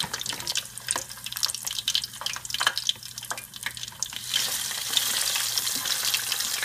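Steady sizzling and bubbling of food deep frying in hot oil, close by, growing louder and more intense toward the end, with no talking.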